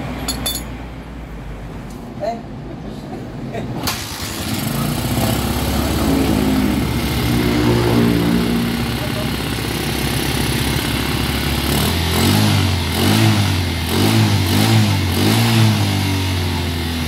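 A motorcycle engine, just after its carburetor was cleaned and its NGK spark plug replaced, catches and runs, idling loud and steady, then revs repeatedly in short bursts near the end, with light metallic clinks underneath.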